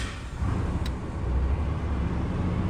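A 2019-2021 Cummins diesel pickup truck engine starts and runs with a steady, loud rumble and hiss, close by, with no voices.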